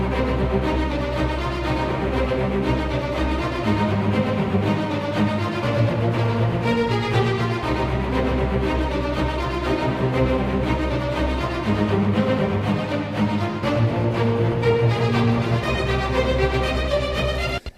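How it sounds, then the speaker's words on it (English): A full, weighty string section built from layered action string library patches plays continuously and loud, sustained chords with busy rhythmic movement throughout, no voices. "that's like a full string set"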